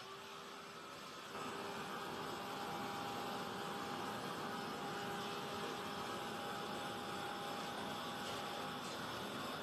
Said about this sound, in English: I'm going to pull that heat gun out again.